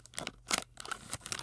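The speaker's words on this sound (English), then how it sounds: "I'll cut the bow here" Scissors snip through a ribbon bow on a Shopkins Season 3 toy package, a few quick close cuts with crinkly scratching between them.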